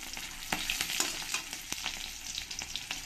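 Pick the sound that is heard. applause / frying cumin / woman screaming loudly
frying cumin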